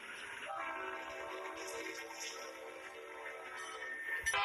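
An old CSX locomotive horn sounds as one loud, sustained multi-tone chord for about four seconds, close and clear, with a short blast near the end.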